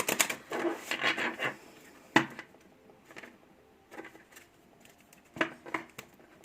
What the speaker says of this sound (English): Oh, that was a good shuffle.